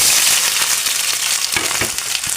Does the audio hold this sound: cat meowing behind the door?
no